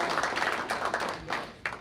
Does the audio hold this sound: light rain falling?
no